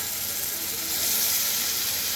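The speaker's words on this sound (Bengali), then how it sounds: "এখন আমি সামান্য পরিমাণে জল দিলাম" Water poured into a hot pan of frying vegetables, giving a loud, steady sizzling hiss of steam that swells slightly and continues unbroken, with no talking.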